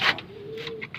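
A fancy pigeon of the golden imamdin breed coos once in a steady, drawn-out tone lasting most of a second, close by, with faint chirps from other birds around it.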